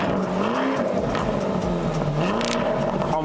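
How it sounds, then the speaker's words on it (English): The engine and exhaust of a Lamborghini Urus rev hard and close up, with the pitch rising and falling as the car accelerates and a short burst of tire noise near the end. "You got to hear this engine and this exhaust."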